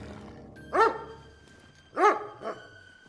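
Dog in Kingdom Come: Deliverance 2 barking twice, loud and close, followed by a softer third bark in a medieval game scene with low background ambience.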